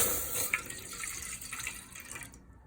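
Whole milk poured into a pan for kheer, a steady close liquid stream running for a couple of seconds before cutting off abruptly.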